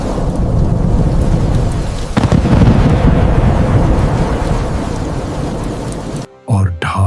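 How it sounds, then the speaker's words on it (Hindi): A storm roars with heavy rain and a deep rumbling thunder crack, loud and dense throughout, cutting off abruptly near the end before a brief voice. "बाहर बिजली कड़की"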